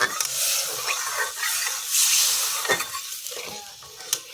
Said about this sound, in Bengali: এর মধ্যে আমি এখন জল অ্যাড করে দিচ্ছি